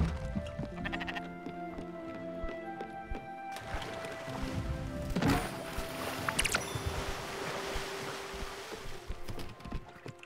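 Sheep bleating in the video game Spiritfarer, several short bleats mixed with game music and ambient effects, fairly close and moderately loud, with no talking.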